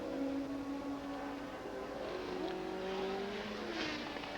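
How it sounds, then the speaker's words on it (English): A 1982 Formula 1 car with a lumpy-sounding engine drives past at the Dutch Grand Prix, its engine note rising and shifting as it passes, fairly distant and faint against the circuit's background noise. "there is the confirmation of it with a very lumpy sounding engine"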